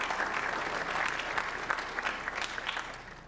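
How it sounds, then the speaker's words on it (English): An audience at a Rice Business conference event applauds steadily, a dense wash of clapping from many hands that holds at an even level for the whole stretch with no talking over it. "So a round of applause for the other students in the house."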